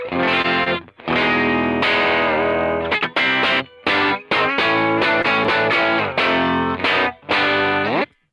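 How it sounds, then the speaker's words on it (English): A Fender Jaguar electric guitar played through reverb, loud and alone, with sustained chords and bursts of choppy notes that ring out and decay between phrases. "Sounds like a Jag, right?"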